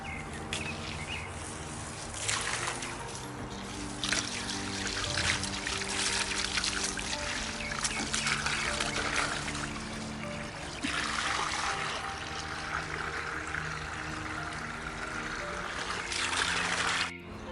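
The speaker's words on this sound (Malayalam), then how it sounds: "ഇനി നമുക്കൊരു വെള്ളത്തിലൊന്ന് കഴുകിയിടാം." Water poured and splashing over a whole turkey being washed, a continuous splashing and trickling with some louder gushes, close by.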